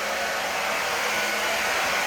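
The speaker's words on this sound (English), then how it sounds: "Right back here doesn't seem to be sucking in either on this REVLON dryer" A Revlon hair dryer blows on long curly hair with a loud, steady, unbroken roar throughout, close by and with no voices.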